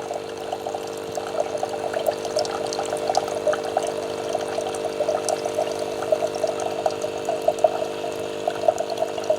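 A Nescafe Dolce Gusto coffee machine dispenses water with a steady pump hum under a continuous liquid gurgle and trickle, close and fairly loud for the whole stretch, with no talking.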